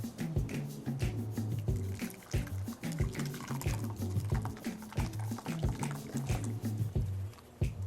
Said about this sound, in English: the liquid will strain through into the bowl, and the cheesecloth will hold your curds.